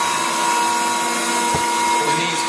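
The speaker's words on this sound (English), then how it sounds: "the knee's currently feeding up" Rockford 24-inch hydraulic shaper with a heavy-duty tool post, its knee feeding up: a steady, close machine whine and hum with a brief thump midway, running on its own without talk.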